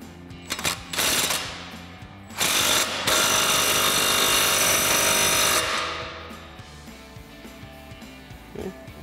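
Ratchet tightening the exhaust tip clamp on a Jeep Wrangler JK's Dynomax axle-back exhaust, loud rapid clicking bursts: short ones at first, then a long sustained run of ratcheting that fades out, followed by quiet.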